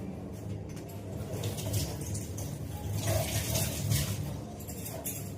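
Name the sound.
washing lemons under running water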